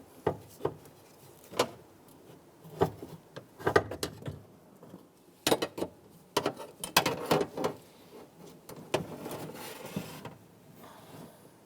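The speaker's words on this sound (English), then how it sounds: "Let's go ahead and lower our regulator down into position." Ford Explorer power window regulator from a 1995-2001 model being lowered into position inside the door, giving irregular metallic clicks, clunks and ratcheting rattles in short bursts at close range, with no talking.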